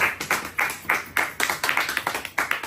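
An audience claps at a gathering, a burst of quick, uneven handclaps that gathers into a steady patter of applause, close and fairly loud.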